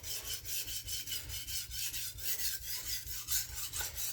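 Steady rhythmic rasping strokes of a kitchen knife edge drawn across a sharpening stone, repeating about every half second, close and alone with no talking.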